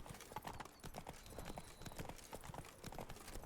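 A horse gallops in the Witcher 3 video game, with rapid, continuous clip-clop hoofbeats at moderate loudness and faint talk in the background.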